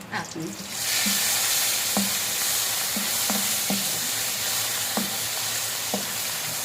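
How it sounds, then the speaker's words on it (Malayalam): Cashews and raisins frying in hot oil in a pan for a Kottayam-style beef chaps dish, a steady loud sizzle with occasional soft taps of stirring against the pan. "അപ്പോൾ അതിലേക്ക് നമുക്ക് ശകലം കശുവണ്ടി, മുന്തിരി അതിട്ട് നമുക്ക് അങ്ങ് മൂപ്പിക്കാം"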